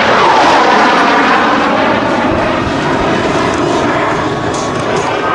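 A high-speed pass by an F-111 jet with TF-30 engines at an airshow: a loud, continuous broadband roar that stays strong throughout, sweeping in pitch as the aircraft rushes by.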